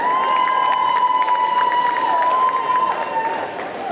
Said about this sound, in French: vous pouvez faire un maximum de bruit, des applaudissements pour tous nos cosplayers qui sont passés tout à l'heure